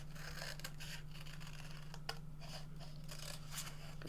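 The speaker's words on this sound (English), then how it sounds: "Maybe I will cut my deck of cards out as well." Scissors cutting out card for crafting: faint, close snipping and rustling of paper over a steady low hum, quiet throughout with no voices.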